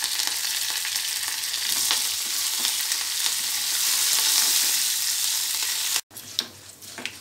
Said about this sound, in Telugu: తాలింపు ఫ్రై అయిన తర్వాత